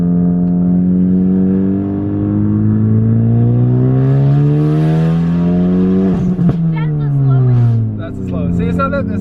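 A 400+ hp car on low boost pulls hard from inside the cabin, engine note climbing steadily through a long rev before a gear change, then rising again, loud and close throughout.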